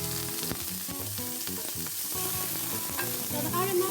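Aromatics for kimchi fried rice fry loudly in heated oil, a dense sizzle broken by repeated scraping and clattering as a utensil stirs them around the pan, heard close with no talking.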